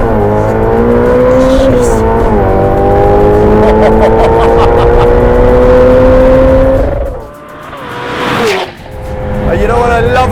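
A Ferrari 812 with a Novitec exhaust screams past at high speed, its loud rising engine note sweeping through a fly-by before dropping away, then returning with brief further bursts of revving.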